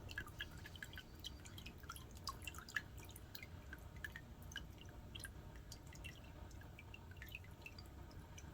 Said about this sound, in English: let the water drain off of it